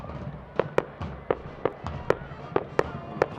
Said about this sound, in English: And pops of fireworks all around Las Vegas now.